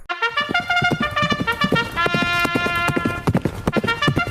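Rapid clip-clopping hooves patter in a steady rhythm under a long, high whinnying neigh, loud and close, like a sound effect.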